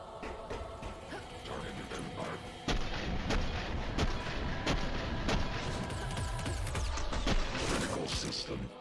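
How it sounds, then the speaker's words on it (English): Gunfire and heavy booming blasts in the game SPRAWL, a continuous barrage of shots and impacts with a sharp jump in intensity partway through, loud and dense throughout. "Someone shooting at me?"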